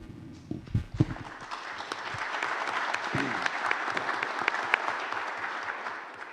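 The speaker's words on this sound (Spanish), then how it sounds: "Gracias por sus aplausos previos" Steady applause from an audience fills the room, starting after a few scattered claps and holding at an even, moderately loud level throughout.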